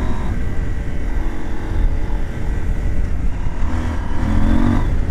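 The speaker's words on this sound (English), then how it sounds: "There's a lot of power in this engine." A KTM 790 Adventure motorcycle riding off-road, its engine pulling hard with a rising tone near the end, blended with a constant, heavy roar of wind and road noise and no talking.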